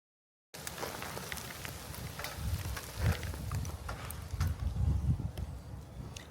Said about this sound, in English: Every time the wind picks up, it just knocks water off these trees.